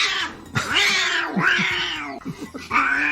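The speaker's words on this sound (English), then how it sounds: "one standout changes all the demons into kitties" Cats meowing in City of Heroes, where a mod turns the game's demons into kitties: loud, close, drawn-out yowling meows follow one another with brief breaks, with no talk over them.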